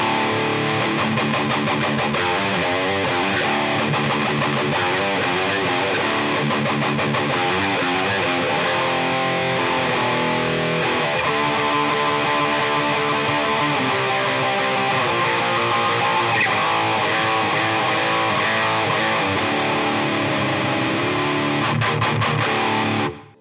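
Electric guitar run through a NUX Trident's Soldano amp model with boost engaged and light reverb, playing a continuous distorted, saturated riff that stays loud and dense from start to finish.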